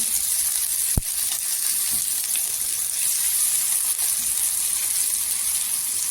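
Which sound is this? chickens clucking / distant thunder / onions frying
onions frying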